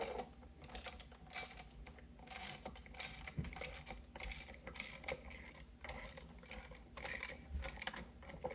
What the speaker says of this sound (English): we can tighten down the bolt to pull the timing cover off